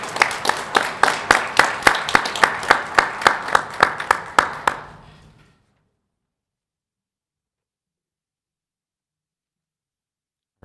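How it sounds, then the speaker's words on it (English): Audience applause at a Socorro ISD school board meeting, a burst of strong rhythmic clapping in a room lasting about five seconds before cutting off to near silence. "Let's give him a round of applause."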